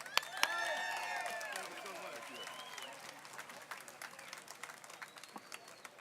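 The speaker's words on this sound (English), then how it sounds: "Please, warm round of applause for Mr. Michael Cutler." An audience applauds at a DC jobs march rally, the clapping loud at first and then tapering off over several seconds, with cheering and a voice over the crowd.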